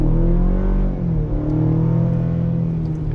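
2024 GMC Canyon Elevation mid-size truck with a 2.7-liter turbo four-cylinder accelerating hard, a loud, close engine drone and rumble with climbing pitch, heard from inside with no talking.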